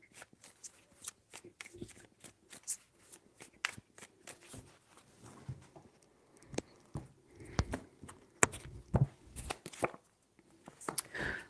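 Tarot cards are shuffled by hand close up, a run of crisp riffling and slapping bursts that come in uneven clusters with no voices over them.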